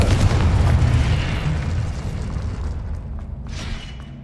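A Confringo spell explosion in Hogwarts Legacy lands as a loud, deep boom that rolls and slowly fades into a rumbling tail, with a faint whoosh near the end.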